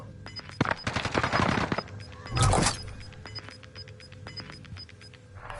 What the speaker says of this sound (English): That was a very hard hitting load of bullets.